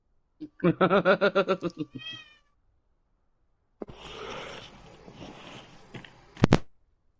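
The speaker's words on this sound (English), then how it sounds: "Alexa, play cat sounds." A smart speaker plays a rapid string of close cat meows, followed after a pause by a rougher, hissing caterwaul-like stretch and a sharp final cry, quiet in a room.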